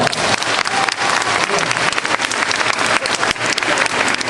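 Applause from guests at a school principal's retirement ceremony fills the room, loud, dense clapping with sharp individual claps standing out throughout.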